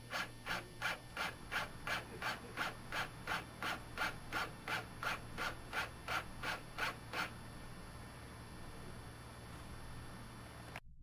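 A Transmotec linear actuator driven by QuickSilver Controls makes a quick series of 0.1-inch moves, each a short, evenly spaced whirring pulse of about sixteen in a row, followed by faint steady hum.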